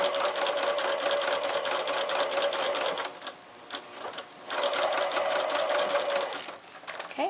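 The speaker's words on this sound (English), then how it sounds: "Sometimes it helps to sew that particular segment a second time." A sewing machine stitches an appliqué paw pad, running loud and fast with a steady buzzing whir, pausing briefly in the middle before sewing the segment again.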